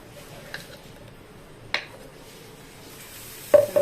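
Pesarattu batter sizzling on a hot pan: a steady, fairly quiet frying hiss throughout, broken by a few sharp clicks or taps of a utensil near the end.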